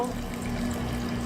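Tap water runs into a pot holding a cup of rice before cooking, a steady close splashing fill with a faint low hum beneath, continuous for the whole moment.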